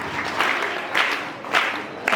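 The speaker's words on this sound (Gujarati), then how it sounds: "તાળીઓથી ત્રણેયને વધાવીશું." An audience claps for three people being welcomed at a Raksha Bandhan prize-giving event for sisters. The applause is a steady, moderately loud patter with a few stronger swells.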